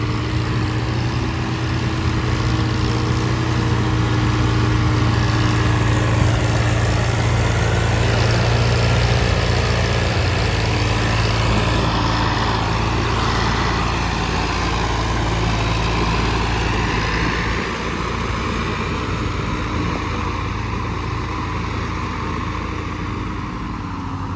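An old 1995-model tractor engine runs steadily nearby, a continuous low rumbling drone that holds constant throughout without voices.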